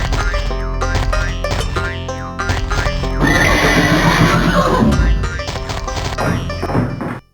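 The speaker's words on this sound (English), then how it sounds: "Billy's horse appears at the entrance and just walks away." A horse in the video game Alone in the Dark 3 whinnies loudly, then clip-clops away, mixed with thumping game effects and a brief crash, all fairly loud and up front.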